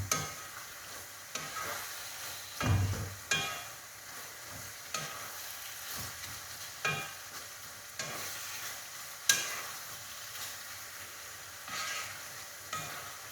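Siopao asado filling being stirred with a wooden spoon in a sizzling pan, soy sauce in the mix; steady frying hiss broken by repeated scraping strokes and occasional sharper knocks, close up with no voices.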